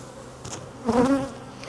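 Honey bees buzzing near a queen-rearing colony hive, a short close burst of droning wingbeats swelling midway and fading, with fainter buzzing around it and no talk.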